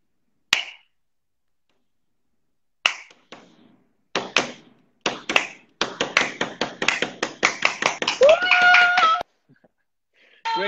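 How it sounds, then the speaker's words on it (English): Football fans of Kerala Blasters perform a Viking clap with players: isolated single claps spaced seconds apart, then a quickening run of sharp crowd claps building into a dense burst, with a brief whistle-like tone near the end. "everyone's clapping with us"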